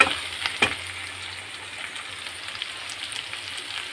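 Liver and tomato sauté in a pan with a soft continuous sizzle, opening with a couple of clattering stirs and then settling into a steady close hiss.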